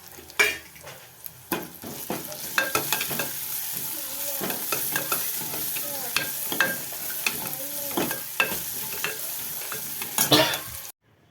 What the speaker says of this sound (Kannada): ಇದನ್ನೆಲ್ಲ ಚೆನ್ನಾಗಿ ನೋಡಿ ಎಲ್ಲ ಬ್ರೌನ್ ಕಲರ್ ತನಕ ಫ್ರೈ ಆಗಿದೆ